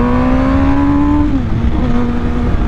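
An MV Agusta Brutale 1000 Serie Oro motorcycle engine holds a loud, steady high-revving whine through a corner, pitch easing slightly and dipping briefly midway before settling again, no talk over it.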